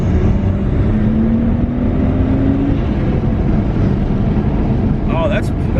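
Rear-wheel-drive Nissan Skyline R32 with its RB26 engine pulls hard under acceleration, a steady loud engine drone filling the clip while people talk over it.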